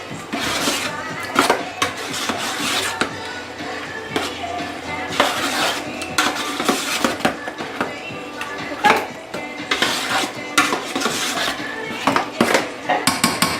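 Chicken and dumplings with juice being stirred in a baking dish, irregular clinks and scrapes of a utensil against the dish close up, with a person talking.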